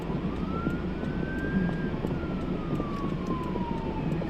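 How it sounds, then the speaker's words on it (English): A siren wails faintly over a low rumble of traffic, its pitch slowly rising then falling as it passes at a distance. "Here comes the ambulance."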